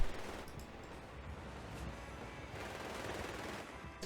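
Faint machine gun fire from a building in a strategy game, a continuous rattle of rapid shots heard at a distance, low in level and steady throughout.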